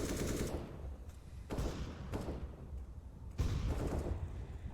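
Gunfire from a Counter-Strike match on the Nuke map at an ESL Premiership grand final, with repeated bursts of rifle shots, a few short pauses and a louder volley near the end.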